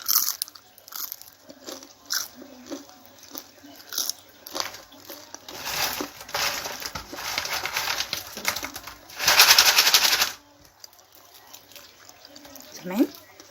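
Crunchy fried potatoes being bitten, with several crisp crunching bites spread through the stretch, close and fairly loud, and someone talking between them.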